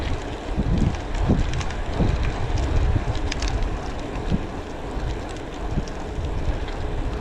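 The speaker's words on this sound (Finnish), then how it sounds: "Aika hyvin kyllä tuuli menee tässä etelä-pohjoissuunnassa." Gusty wind rushes loudly over the microphone while cycling along a path shared with families and racing cyclists, a continuous buffeting roar with swelling gusts.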